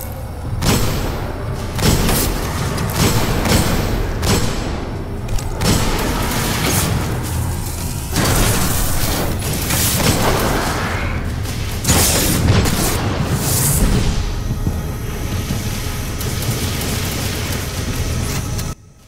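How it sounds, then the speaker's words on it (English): Gjallarhorn rocket launcher blasts in Destiny land as heavy booms and thuds amid mechanical game noise, several loud impacts spaced across a dense, rumbling battle mix. "My Gallahorn will pretty much kill anything on the hit, and blast radius will kill a lot of other things."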